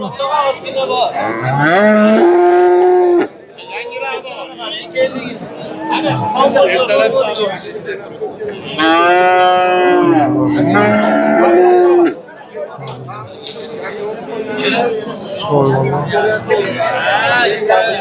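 Cows at a busy cattle market give long, loud, drawn-out moos several times, nearby and overlapping, over a constant babble of people talking and bargaining.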